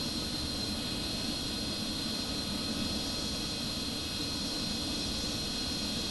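A MiG-29 fighter jet flown in an aerobatic display produces a steady, broadband engine roar, unbroken and fairly loud throughout.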